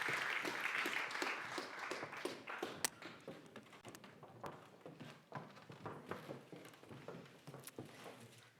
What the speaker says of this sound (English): A warm applause for my guests